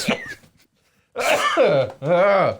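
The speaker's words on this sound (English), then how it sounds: "I'm leaving the coughs in." Two or three harsh, throaty coughs close to the microphone, separated by a brief silence.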